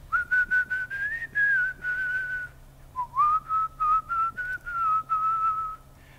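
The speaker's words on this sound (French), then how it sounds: "Superbe, très beau sifflet" A person whistles a lively melodic tune alone, clear and close, in short phrased notes with a brief pause partway through.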